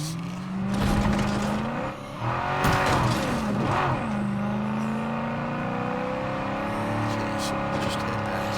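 A car engine in the State of Decay 2 video game revs and accelerates with a loud, continuous drone, rising and falling in pitch, with a few bumps and knocks, and faint talk underneath.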